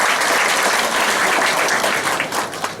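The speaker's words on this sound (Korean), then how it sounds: "다시 한번 박수를 부탁드립니다" An audience at a Korean history lecture applauds a professor, with steady, dense clapping that stays loud throughout and thins slightly toward the end.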